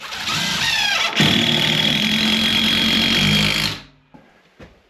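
A power driver sinks a 3 3/4 inch screw into wall framing in a tiny house remodel: a loud, close motor whine rises and holds for about three seconds, then winds down, followed by a faint knock.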